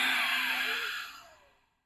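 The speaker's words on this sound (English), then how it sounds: "Exhale, all the air out of the body, round." A single long, deep exhale from yoga breathing, close and breathy, starts strong and fades smoothly into silence over about two seconds.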